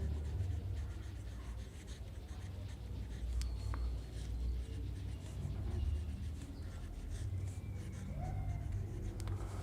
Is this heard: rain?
no